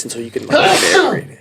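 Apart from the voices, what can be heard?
sneeze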